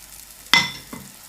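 Wheat flour batter poured into a pan over a medium gas flame, giving a sudden loud hiss that fades, followed by a second, softer burst of sizzling.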